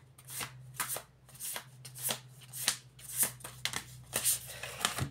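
Oversized playing cards being shuffled by hand in a string of brisk riffling bursts, each a crisp flutter with short pauses between, close and clear over a low steady hum.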